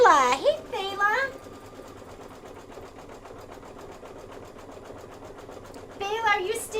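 A sewing machine stitching during a quilting sew-along, a steady, faint mechanical hum running in the background while a person talks at the start and again near the end.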